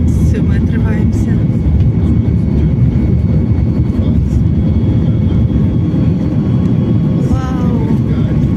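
An airliner takes off from Vancouver airport, its engines roaring loud and constant from inside the cabin, with a voice speaking briefly over the noise.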